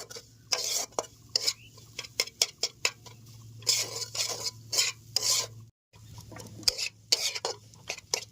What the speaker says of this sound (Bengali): আস্তে আস্তে নাড়িয়ে পুরো জলটা একদম টাইনে দেবে, ডালটার পুরো ঝুরঝুরি করে নেবে।